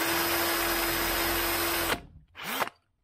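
A power drill with a 4mm bit whines loudly at a steady pitch, stops, then gives one more short burst before falling quiet.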